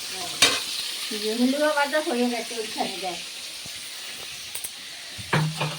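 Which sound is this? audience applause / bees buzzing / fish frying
fish frying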